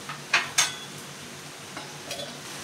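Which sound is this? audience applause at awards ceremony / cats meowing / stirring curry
stirring curry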